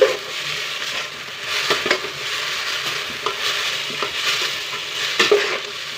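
Tomatoes fry and sizzle in a pan for sambar while being stirred, with a continuous close hiss and intermittent scraping strokes of the spoon against the pan.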